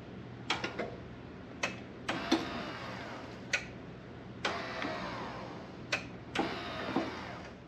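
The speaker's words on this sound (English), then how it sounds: "When you push that button, you have an actuator right here" An electric mulch-on-demand actuator on a mower deck rotates with a series of faint, sharp clicks and ticks spaced irregularly over a quiet background.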